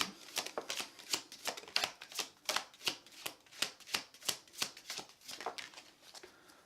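Tarot cards are shuffled by hand in a quick, even rhythm of about a dozen crisp riffling snaps, close and clear with no voices.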